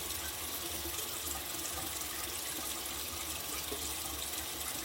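Tap water runs steadily into a sink for a rinse after a shave, a continuous broadband rush with no talking.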